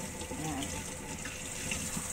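Water pours from a kitchen tap as a pork chop is washed under it, a soft, steady splash that stays faint and even through the short moment, with no talk.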